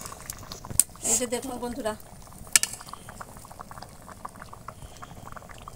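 Chicken khichuri of rice and lentils simmering in a pot with green chillies and tomato, a soft, low bubbling under someone speaking, with a few sharp clinks of a utensil against the pot.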